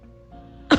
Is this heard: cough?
yes